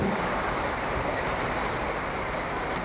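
Falling water drops make a dense, steady hiss of rain, loud and constant with no voices.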